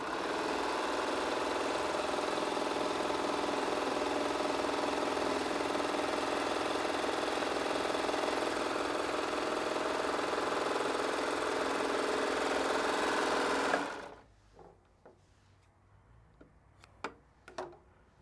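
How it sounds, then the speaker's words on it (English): A serger runs steadily, sewing a flatlock wave stitch on vinyl, a dense continuous mechanical whir that carries on for about fourteen seconds and then stops abruptly, leaving a few faint ticks. "So basically I'm going to just sew a little bit here."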